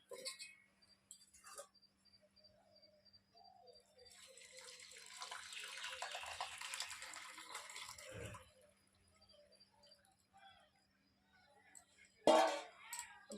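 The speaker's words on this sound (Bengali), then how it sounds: "এবার এই ফুলকপিটা গরম জলের মধ্যে দিয়ে দেবো" Cauliflower lowered into a pot of hot boiled water in a kitchen, giving a stretch of soft sloshing and bubbling in the middle and a brief splash near the end, with quiet moments around it.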